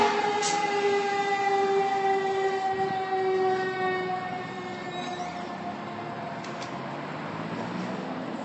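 Engine 17 train rolls past on a Tennessee street, its horn blaring in long sustained tones over the rumble and clatter of the passing cars, loud and close, easing slightly as it continues.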